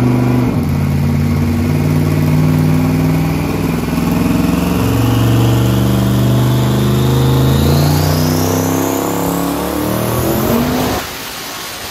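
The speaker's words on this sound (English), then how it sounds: "a little baby 388 LSX stroker" A 388 LSX stroker V8 revs hard and loud up close, its pitch climbing steadily over several seconds before the throttle snaps shut and the engine drops back abruptly.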